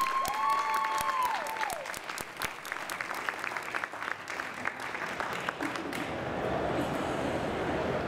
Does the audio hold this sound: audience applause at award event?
yes